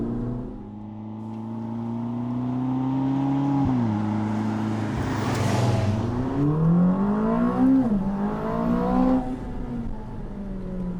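A Ferrari 849 Testarossa Spider engine is driven hard, revving up through rising pitches with a brief drop at a gear change, then climbing again loud and close, with no talk.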